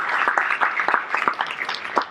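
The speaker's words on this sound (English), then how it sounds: "Let's give Mandy a round of applause" Audience at a funding seminar panel discussion applauds Mandy, a brief burst of scattered clapping from a modest crowd, fairly close and steady for about two seconds.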